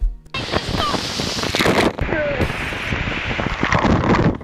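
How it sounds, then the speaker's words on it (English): Strong wind buffets the microphone on a windy day at the shore, with crashing surf and waves underneath, loud and continuous, with people's voices partly audible through it. "what a windy day"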